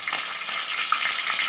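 Curry leaves sizzle sharply in hot oil as a tempering for brinjal curry, a bright, steady crackle with a few louder pops, close up and heard alone.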